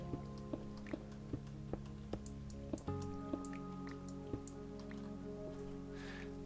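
Gentle water trickle and drips from flowing Minecraft water blocks, with soft steady dripping ticks over a low continuous tonal backdrop, fairly quiet and alone.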